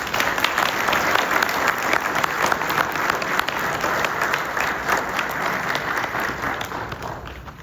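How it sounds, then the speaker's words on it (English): Audience at a county sheriff's office awards and promotions ceremony applauding, loud, sustained, close clapping from a room full of people, continuous throughout without any speech. "A round of applause for"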